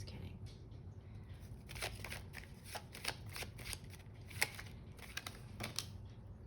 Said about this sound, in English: I like to pre-shuffle sometimes just to get an overall energy of what